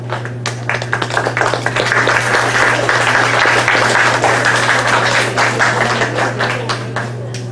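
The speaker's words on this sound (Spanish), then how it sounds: "Aplausos, por favor." An audience at a clinical pharmacy course applauds loudly, a full, sustained round of clapping over a steady low electrical hum, easing slightly toward the end.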